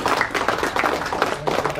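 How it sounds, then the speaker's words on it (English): An audience at an information night claps for a helper, a steady round of applause: dense, even clapping that carries on throughout, fairly close and loud, with a faint voice beneath it. "a round of applause for Gavin Harris"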